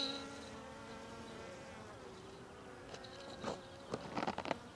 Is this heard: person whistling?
no